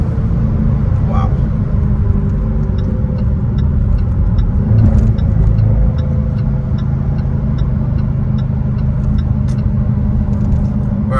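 Jaguar F-Type R engine accelerating onto a highway in second gear, a loud steady low rumble with road noise throughout, close and continuous.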